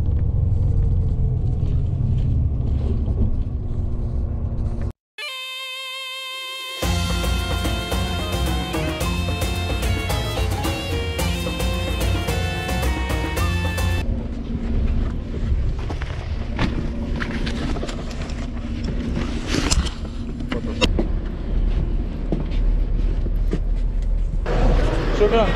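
Steady low engine rumble and road noise inside a heated bus crossing a Sahara desert road, continuous and close, briefly cut out then resuming with rattles and shifting cabin sounds.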